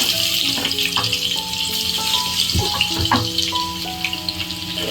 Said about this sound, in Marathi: त्यात हा ठेचलेला लसूण टाकायचा